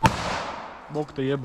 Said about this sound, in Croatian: Ovo treba vidjeti da su petarde.